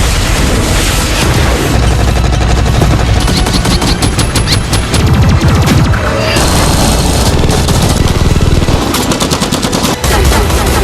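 Movie battle scene of a drone opening fire: loud, dense bursts of rapid machine-gun shots with heavy booms and blasts, sustained and close throughout, with shouted voices briefly under the gunfire.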